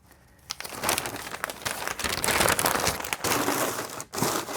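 Someone handles Rooms To Go packing paper up close, crumpling and crinkling it in a continuous, busy rustle with one brief pause near the end.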